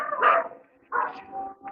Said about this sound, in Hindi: उधर ही बाहर कुत्ता भौंक रहा है।